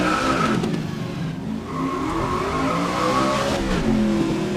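A Holden Commodore race car in GRID 2019 revs loudly and continuously, its engine pitch rising and falling through gear changes with a brief dip midway, with faint tyre squeal mixed in and no voices.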